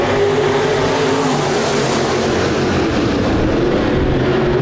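Modified race cars take the green flag at heat-race start on Park Jefferson Speedway, a loud continuous roar of many engines revving close by with no break in the noise.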